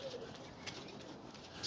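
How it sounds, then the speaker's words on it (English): Birds chirp outdoors while a pigeon coos softly, faint and distant over a light background hiss, with no talking. "You hear the birds singing"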